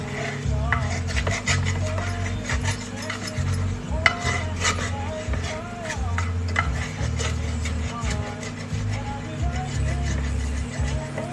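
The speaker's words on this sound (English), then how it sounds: "we scrape all of the milk from the pot" A spoon or spatula scrapes cooked milk from the inside of a hot pot: repeated rasping, clinking strokes on metal, close up, over a steady low hum, with some faint voice in the background.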